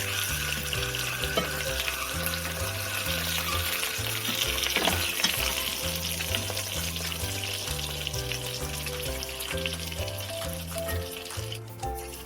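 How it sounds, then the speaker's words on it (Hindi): Green chilies fry in hot oil for Hyderabadi mirchi ka salan, giving a steady, close sizzle that runs unbroken for the whole stretch with no voices over it. "ताकि ये थोड़ी नरम भी हो जाए मिर्ची तेल में फ्राई होते हुए"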